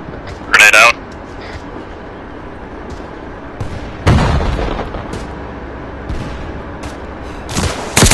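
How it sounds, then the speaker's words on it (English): Grenade explosion in the military video game Arma 3 near a tank, a sudden loud boom with a rumbling tail, among sharp sporadic gunfire cracks and someone talking over the radio. "Grenade out."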